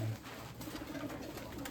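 Pigeons coo in a dovecote housing Mykolaiv and Poltava breeds, a low steady cooing chorus running throughout at close range with no talk over it.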